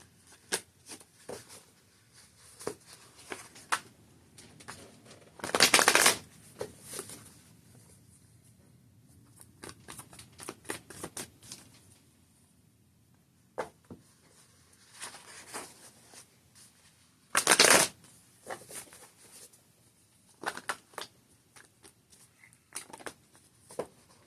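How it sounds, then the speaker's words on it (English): Mystic Tarot cards shuffled by hand in two loud riffling bursts, with soft rustles, taps and handling sounds between them in a quiet room. "Let me use the Mystic Tarot deck here."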